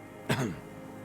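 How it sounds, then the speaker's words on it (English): A short, single cough from a character in the video game Disco Elysium, a brief burst standing alone against a quiet background. "Lieutenant coughs."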